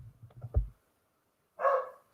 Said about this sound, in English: Sterling as the dog barks